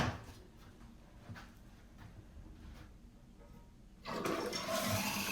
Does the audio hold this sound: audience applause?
no